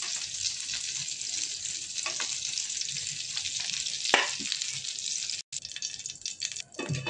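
Paneer shallow-frying in oil in a pan gives a steady, close hissing sizzle with occasional pops and scrapes. The sound cuts out briefly near the end, then carries on.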